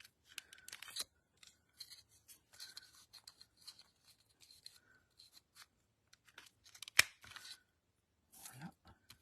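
Scissors round the corners of a handmade greeting card, making a series of quiet, close snips and crisp cuts in short irregular bursts, with a faint voice near the end.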